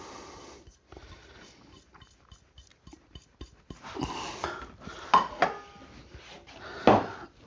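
Flour, cinnamon, baking soda and salt whisked together in a bowl for oat cookies, heard as a run of quick, light, regular taps and scrapes that turns into louder, busier clinks against the bowl partway through.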